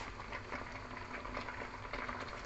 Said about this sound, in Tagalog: kumukulo ng ating okra